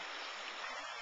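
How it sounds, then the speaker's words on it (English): Creek water rushing steadily at a ranch, a dense broadband wash of flowing water that stays constant and fairly close throughout. "That's the creek there."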